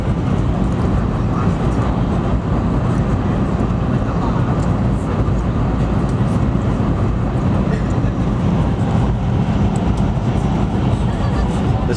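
High-speed train in Taiwan heard from inside while riding at speed: a loud, steady rumble and rushing roar continues throughout without a break.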